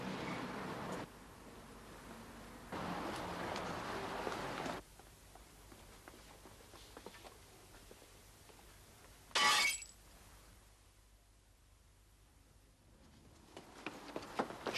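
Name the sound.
pane of glass in a door being smashed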